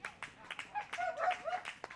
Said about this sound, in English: Even the dogs are getting in on the cheering.